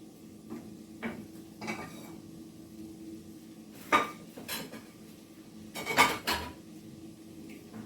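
Plain white rice being added to a stuffed pepper mix with ground meat, heard as a few separate clinks and scrapes of a utensil against a pot or bowl, with two louder clatters near the end.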